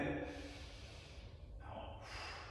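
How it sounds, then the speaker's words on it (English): A person lying in a dead bug core exercise takes a faint, close breath in, a soft airy inhale followed by quiet rustling. "I'm breathing in."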